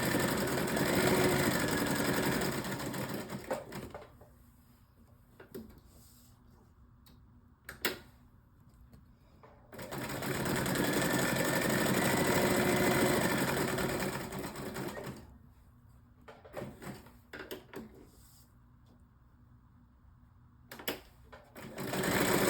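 Sewing machine stitching fabric with a zigzag stitch in two long continuous runs, with short pauses and a few clicks between them, close and steady.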